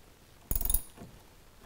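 A deep-well socket on a ratchet loosens a battery terminal on a 2014 Porsche 911 Turbo, giving a short burst of quick metallic clicks close up, then a fainter click at the end, with no voices.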